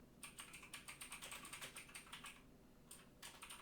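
Rapid typing on a computer keyboard, a dense run of clicking keystrokes followed by a short pause and a few more taps, close and clear with no talk.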